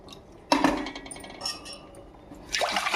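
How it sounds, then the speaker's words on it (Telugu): A glass of water is tipped into a cooking pot while making jowar, giving two distinct splashing pours with a quieter gap between them. "ఈ గలాసుతో 4 గలాసులు వాటర్ పోసుకోవాలి."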